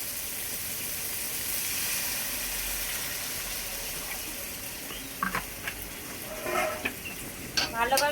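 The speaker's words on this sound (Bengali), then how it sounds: "এবার আমি জল ঢেলে দেব।" Water poured into a hot cooking pan, producing a steady hiss and sizzle that carries on for several seconds, followed by a few stirring clinks and scrapes toward the end.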